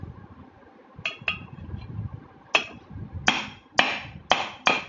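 A hammer strikes pressure cooker body metal to cut it, giving a series of sharp metallic hits that grow louder and come in a quicker burst toward the end, over low background rumble.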